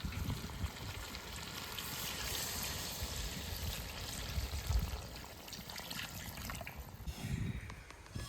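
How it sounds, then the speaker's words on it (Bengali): Water pours steadily into a pot of braised meat, a soft continuous trickling stream that shifts near the end, fairly quiet with no voices. "মাংস কষানো হয়ে গেছে এবার জল দিয়ে দেবো"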